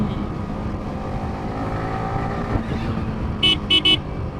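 A Yamaha R15 V3 motorcycle riding at speed, with a steady, rumbling engine and wind roar close by, followed near the end by three short horn toots from nearby traffic.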